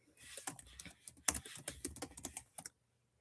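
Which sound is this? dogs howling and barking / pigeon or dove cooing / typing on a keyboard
typing on a keyboard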